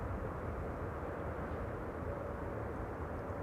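A distant airliner approaching Schiphol airport gives a steady broadband jet roar, constant in loudness and heard alone without any voices.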